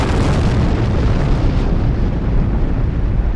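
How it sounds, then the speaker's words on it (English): A loud, sustained rumbling blast, broad and roaring throughout with no quiet gaps. "The explosion was loud enough to nearly shatter my eardrums as a pressure wave slammed into my chest."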